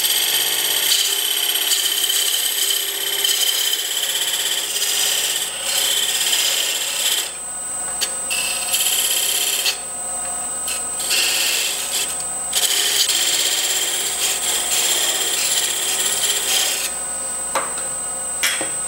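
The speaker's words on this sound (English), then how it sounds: "I'm gonna go back to my 1/8 inch parting tool. And I'm going to make a little ledge right here" A 1/8 inch parting tool cuts into wood spinning on a lathe, a continuous bright scraping hiss that shifts in intensity with brief pauses and changes in pressure, close up with no talk.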